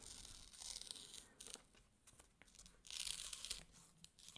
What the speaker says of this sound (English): Let's try to take off the paint or the tape.